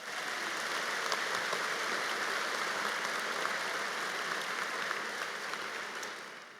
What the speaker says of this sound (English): so let's give UTA a round of applause